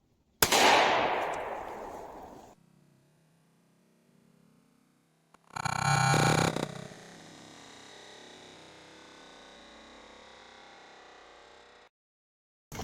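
A Springfield Armory XD pistol fires a single loud, close shot of .45 ACP ball ammunition with a sharp crack and a ringing decay. Several seconds later comes a second loud burst, followed by a lingering noisy tail.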